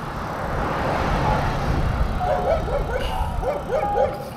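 Several dogs bark and yip in quick bursts during a bike ride, over a steady rumble of wind or road noise, fairly close.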